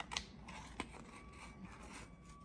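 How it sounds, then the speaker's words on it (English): Heavy-duty kitchen scissors snip through hard plastic while a leaf-shaped necklace piece is cut for a kids' craft, giving a couple of faint, crisp close-up cuts in a quiet room. "I'm using my heavy duty kitchen scissors just because this plastic is a little hard to cut"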